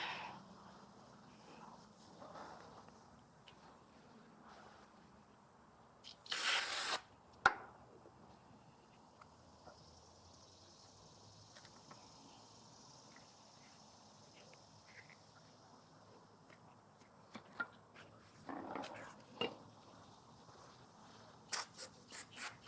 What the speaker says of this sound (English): Just using a little brake cleaner.